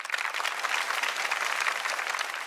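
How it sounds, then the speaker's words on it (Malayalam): Applause from a studio audience for a comedy team on a televised comedy show, a dense steady wash of many hands clapping at moderate loudness throughout, with no speech over it. "ടീം ബ്ലാക്ക് ആൻഡ് വൈറ്റ്, നല്ലൊരു കൈയടി കൊടുത്ത കുട്ടികളെ."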